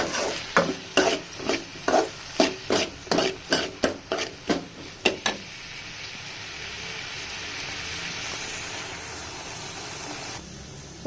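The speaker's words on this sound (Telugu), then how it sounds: "టమాటా పళ్ళు యాడ్ చేసుకొని బాగా వేగినంత వరకు వేయించుకోవాలన్నమాట" Tomatoes fry in a pan for Rayalaseema-style uggani, first with a dozen rhythmic scraping stirs of a spatula, then a steady close sizzle that carries on alone.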